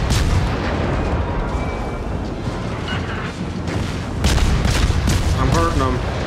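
Warship guns firing in World of Warships, a loud, continuous barrage of booming blasts and bursts that swells louder toward the end, with voices mixed in.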